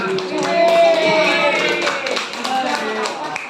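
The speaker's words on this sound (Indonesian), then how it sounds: "Oke, tepuk tangan dong buat Bapak." Classroom clapping during a primary school lesson, a burst of many small hands tapping together with lively children's voices chattering over and between the claps.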